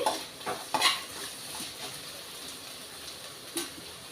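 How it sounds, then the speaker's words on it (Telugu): Vegetables and cashews frying in a pan for veg biryani, with a soft steady sizzle and several scraping stirs of a utensil against the pan close by. "వీటినిది వేగిపోయిందండి వేగుతుంది"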